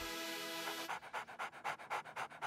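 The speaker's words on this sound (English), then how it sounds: "He's just a dog." Pet wolf-like dog panting rapidly and rhythmically, close and fairly soft, about a dozen quick breaths in a row.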